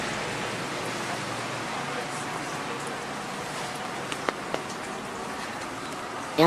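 Steady rain falls at a station where cats gather, a dense even hiss of drops on surfaces with a few brief sharper ticks near the end, no talk.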